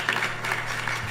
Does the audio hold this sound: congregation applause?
yes